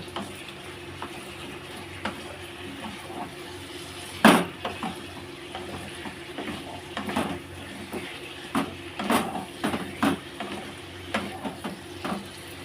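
A spatula scrapes and clinks around a pan of pointed gourd and shrimp curry, irregular metallic knocks and stirring scrapes over a soft sizzle, one sharp clang standing out.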